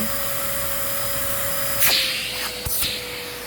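A Kenmore Magic Blue vacuum cleaner runs with a steady, loud whine during a suction test, and its tone shifts briefly near the end as the airflow changes.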